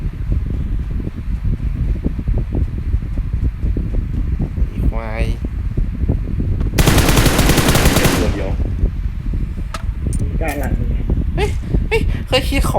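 Rapid bursts of video game gunfire crackle steadily, with a brief higher-pitched burst partway through; people talk over it.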